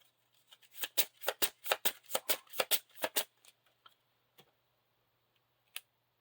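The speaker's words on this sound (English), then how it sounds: "And these get shuffled back in." Lord of the Rings LCG playing cards being shuffled, a quick run of about a dozen crisp riffling snaps close by over three seconds, then a few isolated soft taps and near silence.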